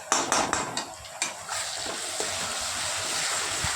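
Mustard and green chili paste hits a hot pan with a few sharp clattering stirs, then settles into a steady close sizzle with occasional spoon scrapes, no voices.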